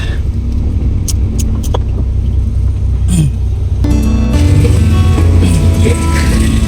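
Steady road traffic on a city street, with cars passing close by in a constant low rumble and hiss. The noise grows denser and brighter midway as more vehicles go by, and no one speaks.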